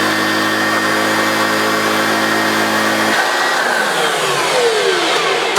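A refurbished Hoover Junior U1412 upright vacuum cleaner running loud and close, a steady whining motor roar with strong hum that drops partway through into a sliding, fading whine as the motor runs down.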